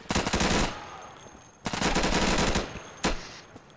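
Bursts of automatic gunfire in Insurgency, loud and close, come in three separate volleys of rapid shots with short pauses between them.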